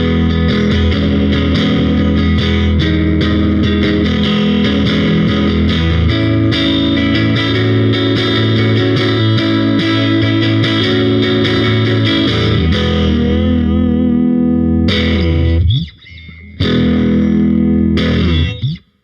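Loud electric guitar, a modern Fender Jaguar on its middle pickup position, with heavy distortion and chorus-like effects, sustained chords droning for a long stretch, then a brief cutout and a few final stabs.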